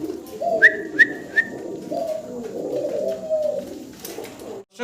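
A pair of Lakha pigeons coo nearby in soft, low, rolling calls, with a few brief higher whistling notes early on and no one speaking.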